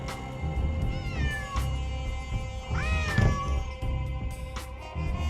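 A cat in the Nancy Drew game Secret of the Old Clock meows twice, drawn-out rising and falling cries, fairly close and clear over a low background hum, with no talking.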